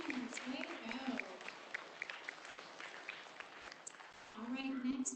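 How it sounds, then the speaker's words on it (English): A crowd at a third-grade awards ceremony claps in steady applause that swells again near the end, with scattered voices mixed in. "let's give Mr. Vegas a small set of round of applause for their accomplishments"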